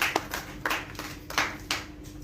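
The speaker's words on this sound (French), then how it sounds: "On applaudit également pour Jeanne et ONITS" A handful of separate hand claps ring out in an uneven rhythm, sparse and fairly close, at an intergenerational dialogue event in Burkina Faso.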